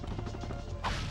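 In-game gunfire in Ratchet & Clank, a dense continuous barrage of crashing and whacking impacts over a low rumbling game soundtrack, with a brighter burst near the end.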